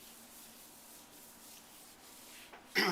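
Gloved hand rubbing sealer into a granite countertop, faint soft rubbing swishes that swell into a louder, closer rub at the very end.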